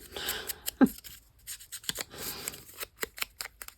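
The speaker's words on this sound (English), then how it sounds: "I just kind of cut some little strips" Scissors snip thin paper strips up close, a string of short crisp cuts and rustles with soft paper handling in between, quiet and irregular.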